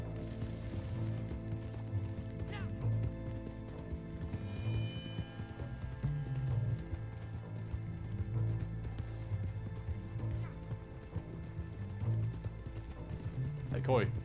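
Horse hooves clopping in Red Dead Online as the horse follows along, a steady rhythmic clip-clop under a continuous game soundscape, with people talking over it.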